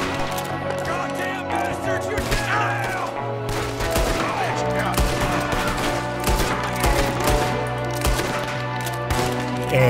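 Gunfire rings out in a Wild West shootout in the video game Red Dead Redemption 2, with repeated loud sharp shots in bursts over background music while someone talks.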